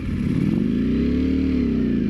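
A Ducati Panigale V4 engine revs steadily and loud up close while its clutch slips, giving a sustained rough drone that rises slightly in pitch and then eases back.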